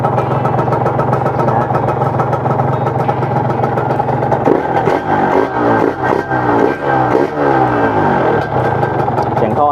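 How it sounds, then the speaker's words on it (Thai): A Yamaha TZR150 two-stroke motorcycle idles close up with a loud, steady, buzzing engine note that turns slightly uneven partway through. "เครื่องแน่นๆเงียบๆเลยนะให้ฟังเสียงใกล้ๆเลยนะครับ"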